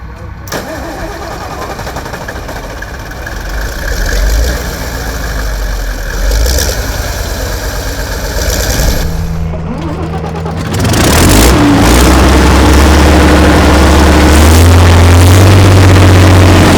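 Deutz truck engine cranking and firing up at a classic vehicle show in Sydney, then settling into a loud, steady, rumbling idle that lasts to the end, with a voice speaking over it.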